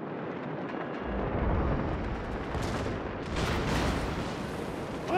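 Naval artillery shells slam into a warship in World of Warships, a continuous dense rumble of booms and blasts with a sharper crash late on, loud and close with no talk.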